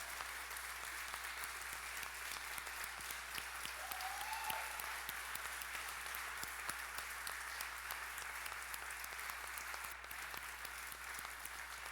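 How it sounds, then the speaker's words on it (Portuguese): A church congregation at an evening service gives a standing ovation, sustained even applause filling the room steadily, moderately distant and unbroken throughout. "E agora nós vamos aplaudi-los em pé"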